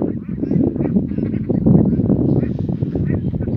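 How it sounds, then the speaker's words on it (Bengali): Ducks on the Baral river at a duck farm honk and quack in a dense, continuous chorus, close and loud, with a voice talking over them. "বড়াল নদীতে অনেক হাঁস চড়ছে"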